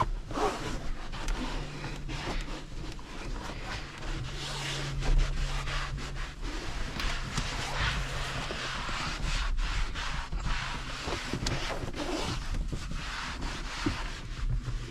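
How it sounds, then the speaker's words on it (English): Microfiber towel wiping the dashboard of an Audi TT, soft continuous rubbing and swishing strokes up close, fairly quiet and without speech. "I'm shooting directly onto the microfiber towel, and I'm gonna go ahead and wipe it all again."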